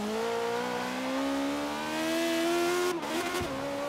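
A V8-swapped BMW i8 engine in the racing game Forza Horizon 3 roars steadily and rises in pitch as it accelerates, then briefly drops as it shifts gear, loud and continuous with no talk.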